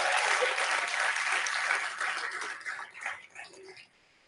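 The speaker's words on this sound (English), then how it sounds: "One more round of applause for all the teams tonight." A crowd applauds all the teams at a startup demo day in Singapore, full clapping that holds steady, then thins and fades out toward the end.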